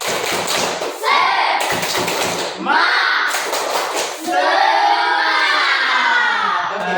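A school class does the tepuk semangat spirit clap, with children shouting a chant in loud bursts over rhythmic group clapping and thumps, close and energetic throughout.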